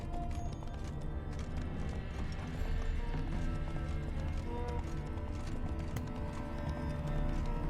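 In The Witcher 3, the horse Roach clip-clops along with steady, rhythmic hoofbeats, close and continuous, and lets out an occasional whinny, with no talking.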